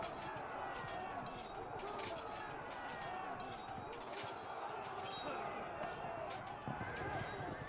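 A medieval battle in the Field of Glory II strategy game, with horses and light cavalry amid a dense, steady roar of combat noise, hooves and neighing blended into the continuous din.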